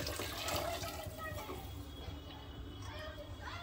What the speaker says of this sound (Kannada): ನೋಡಿ ಕಾಯಿಸಿರುವಂತ ನೀರನ್ನ ಇದಕ್ಕೆ ಹಾಕೊಳ್ತಾ ಇದ್ದೀನಿ